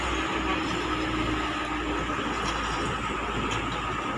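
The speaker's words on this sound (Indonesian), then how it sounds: "Ya, ini ada bus Makmur Tronton." A Makmur Tronton bus rolls past on the road, a steady low engine and tyre rumble at moderate distance, fairly faint and continuous without talk.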